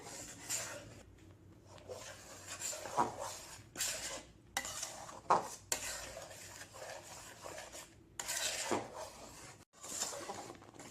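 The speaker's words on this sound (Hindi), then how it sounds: "आप स्पून कंटिन्यूअसली हिलाते रहिए" A spoon scrapes and stirs thick, heavy gajar ka halwa (carrot halwa with homemade khova) around a pan in steady, quiet strokes with small metallic clinks, close and faint, with no talking.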